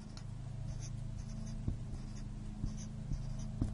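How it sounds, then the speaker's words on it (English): Numbers are handwritten on paper while working a mean and standard deviation calculation, a faint, steady pen scratching that runs close and quiet over a low background hum, with no talking. "So I'm going to write this all the way down."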